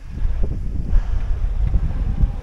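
Wind gusting outdoors on a mountain trail in the Tatras near Dolina Pięciu Stawów and Morskie Oko, a continuous low rumbling buffet across the microphone with no voices.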